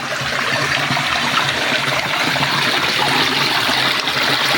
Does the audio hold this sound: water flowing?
yes